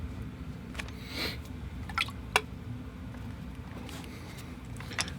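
Watercolor paint is flicked from a brush onto paper, giving a few faint, sparse wet taps and drips over a steady low background hiss.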